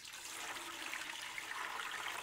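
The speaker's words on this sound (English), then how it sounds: "Actually, I want to pour off some of this whey." Whey is poured off Swiss cheese curds, making a steady, soft splashing rush of liquid that carries on without a break, fairly quiet and close.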